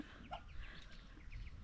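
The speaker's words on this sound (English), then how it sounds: "There are 5 ducks." Five ducks resting in a shed give soft, faint quacks and clucking calls, scattered low over a steady background hum.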